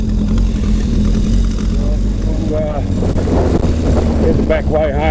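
A Yamaha XS1100 motorcycle engine runs steadily while riding, with a constant low drone and wind rush throughout, and someone talks over it.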